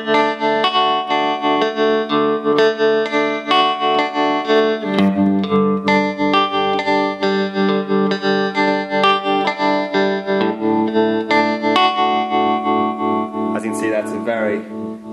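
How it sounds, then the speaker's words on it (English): An electric guitar plays sustained chords through a Fender Twin amp with a slow, steady, pulsing tremolo that makes the volume throb rhythmically throughout. "we're going to have a look at the tremolo"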